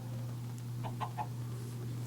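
A video-game chicken on a virtual chicken farm gives three quick clucks in a row, clear and close, over a steady low electrical hum with no speech.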